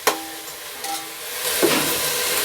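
Ingredients sautéing in a pan for Dindigul-style mutton biryani with seeraga samba rice: a steady, close sizzling hiss that builds louder in the second half, with a couple of brief clatters of the pan.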